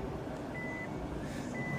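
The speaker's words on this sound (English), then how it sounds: "Look, the car is backing up." A Nissan self-parking car, shown at CEATEC Japan, backs up on its own. Two faint, steady electronic reversing beeps sound over quiet background noise.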